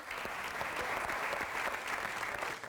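A game show studio audience breaks into brisk, steady applause, a dense wash of many hands clapping at moderate distance throughout the short stretch, with no talking.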